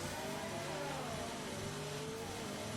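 A car's engine drones with an odd, wavering tone in an online racing game at Monaco, a steady mid-pitched hum with gliding pitch shifts behind constant broadband noise.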